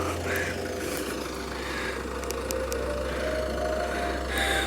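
An engine idles with a steady low rumble and vibration throughout, close and constant, against faint background noise.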